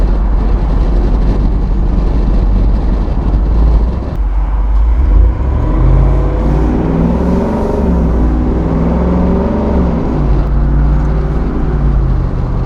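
A deep V8 engine of a 2021 Jeep Wrangler Unlimited Rubicon 392 roars continuously, revs dropping and then climbing again through several rising pulls, loud and close, no voices.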